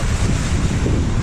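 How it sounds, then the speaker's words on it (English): A vehicle drives through a river, with a steady loud rush of splashing water and rumble throughout and no talking. "we got ourselves a river that we're driving through."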